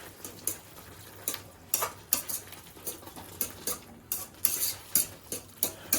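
Pasta with parsley sprinkled over it mixed in a pan, repeated light metallic clicks and scrapes of a utensil against the pan in an uneven rhythm, close and fairly quiet, with no talking.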